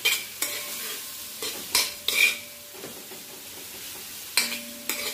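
Flour cooking in a pan for a brown stew, stirred with a utensil that scrapes and clinks against the metal in several distinct strokes over a soft low sizzle, no talking.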